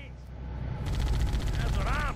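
Rapid machine gun fire from a tank in Halo: Combat Evolved rattles as a steady burst of repeated shots over game ambience, with a brief rising whine at the end.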